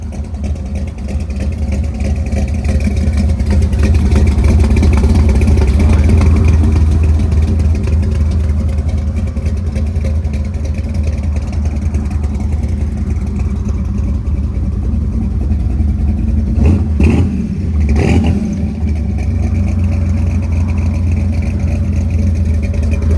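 A 1969 Chevy C10 with a 383 stroker V8, headers and a Flowmaster 40 Series exhaust rumbles at a steady idle, then gives a couple of sharp revs near the end, loud and close, with no talk.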